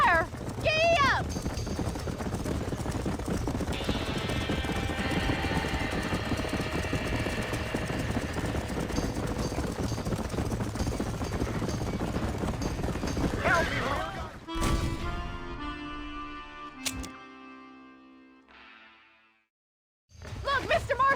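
Horses gallop with steady clip-clop hooves in Red Dead Redemption while a barn burns, loud and continuous under shouting voices, then fading to a quieter stretch near the end.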